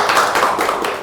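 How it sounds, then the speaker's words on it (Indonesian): Audience clapping for the guest Pak Ustadz Mahfud at a talk show event, a brief, dense burst of many hands applauding steadily at close range with no talk over it. "beri tepuk tangan buat Pak Ustadz Mahfud"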